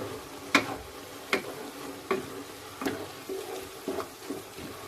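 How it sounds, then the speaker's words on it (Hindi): Tomatoes and onions frying with pav bhaji masala in a pan, a soft steady sizzle punctuated by regular scraping stirs about every three-quarters of a second, close and clear. "टमाटर भी हमारे अच्छे से फ्राई हो रहे हैं"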